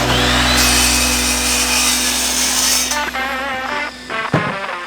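A power saw cuts through composite decking planks, a loud steady whine running for about three seconds before it winds down, followed by a few short rattling passes and a brief clunk.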